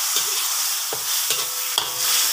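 Masala sautéed in a pan for a honey prawn dish makes a constant bright sizzle. A spoon scrapes and knocks against the pan in a few distinct strokes, close up and with no speech.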